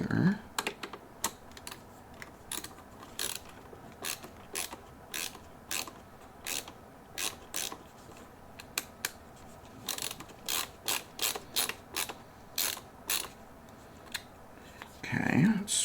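Screws are being unscrewed from a protogen's visor, heard as quick bursts of small clicking ratchet-like ticks repeated in irregular clusters, close and quiet.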